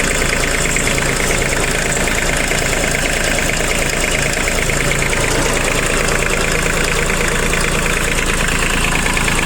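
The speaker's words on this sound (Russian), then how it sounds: "Вполне себе обыкновенный мотор исейки." A three-cylinder engine in an Iseki Sial Hunter 22S Japanese mini tractor idles with a steady, loud, slightly knocking rumble, heard up close and unchanging throughout.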